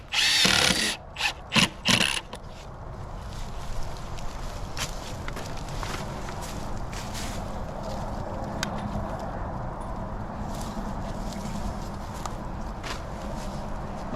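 A power driver sets screws into a cattle panel greenhouse being covered in plastic: a few loud, close bursts in the first two seconds, then a steady outdoor background hum with no further driving.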